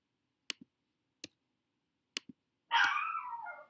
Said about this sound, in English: And you can now hear my dog.